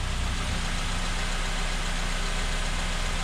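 A 7th-generation Honda Accord engine idles in a steady, even rumble close by, loud and unbroken with no talking.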